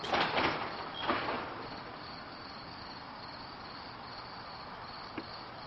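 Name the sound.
crickets chirping at night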